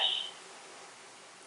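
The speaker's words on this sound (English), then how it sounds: "should we pause the camera and answer the phone?" An electronic telephone rings inside a custom car shop, with a short, quiet tonal chirp at the start and another beginning right at the end over a faint room hush.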